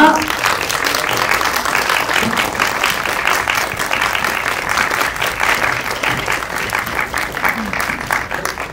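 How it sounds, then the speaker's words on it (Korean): At a press screening of the animated film Yeon's Letter, a crowd gives sustained, even applause as the director Kim Yong-hwan and voice actors take the stage, dense clapping holding steady at moderate loudness. "큰 박수로 맞아주세요."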